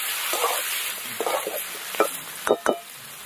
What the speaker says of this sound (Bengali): এবার সিদ্ধ করে রাখা আলু দিয়ে দেবো।